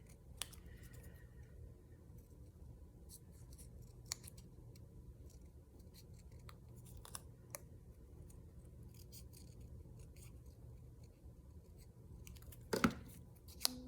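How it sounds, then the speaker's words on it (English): Small scissors snip quietly and irregularly at paper, with scattered soft clicks and a louder rustle near the end, over faint background hum. "My little scissors. Fussy cut this guy."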